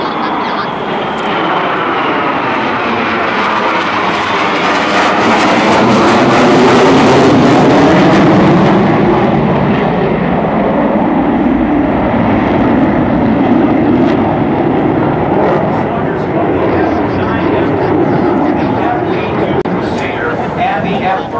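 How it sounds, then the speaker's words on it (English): Navy fighter jets of squadron VFA-103 passing overhead at the 2007 NAS Oceana airshow, a loud sustained engine roar that swells to a peak and slowly fades as they move off to the left. "And the two aircraft now overhead and to the left."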